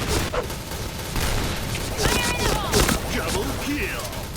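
Video game gunfire from a snowball blaster game, with several loud shotgun-like blasts amid chaotic game sounds and excited voices talking over the action.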